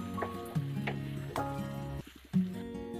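Chicken chow mein noodles with sauce are stirred in a pan, with soft sizzling, squishy scraping and a few knocks of the utensil against the pan over a low hum, with brief pauses between strokes.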